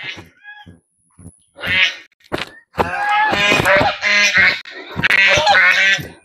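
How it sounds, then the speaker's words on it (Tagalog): Geese honk in loud, harsh bursts, several calls overlapping in quick succession, close by. "gansa"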